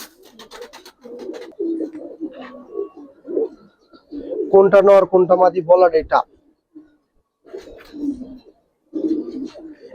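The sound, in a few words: Giribaz highflyer pigeons cooing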